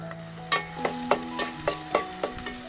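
Two finely chopped onions fry in hot oil in a pan, a steady close sizzle broken by several sharp spoon scrapes and knocks at a loose rhythm, no voices.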